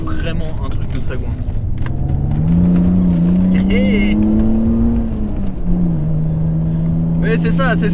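A BMW Z3 M Coupé engine revs and drones up and down in pitch as it accelerates on a winding country road, loud and close, with someone talking over it.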